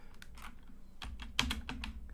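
A computer keyboard spacebar is pressed repeatedly, making a series of quiet, close clicks in an irregular rhythm with one sharper tap in the middle.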